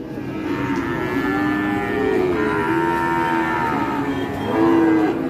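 Limousin cattle at a cattle market moo loudly and close by, several long drawn-out calls following one another in a continuous sequence with no talk over them.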